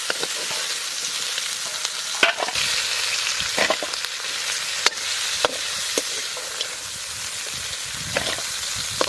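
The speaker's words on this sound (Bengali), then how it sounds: "সুন্দর লাল লাল করে ভেজে ফেলাইছি কাঁকড়া" Crabs fry in a pan (kadai) for a village-style crab curry, giving a loud, steady sizzle throughout with sharp scraping clicks from stirring scattered across it; no voices.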